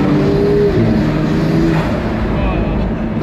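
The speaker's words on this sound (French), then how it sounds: "Le bruit de turbo" A sports car engine roars close by under strong acceleration, a loud continuous rumble with whining turbo tones, while people talk over it.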